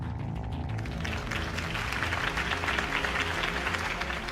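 A crowd in the Batman The Telltale Series video game breaks into dense, sustained applause, a steady wash of clapping heard at moderate distance with no talk over it.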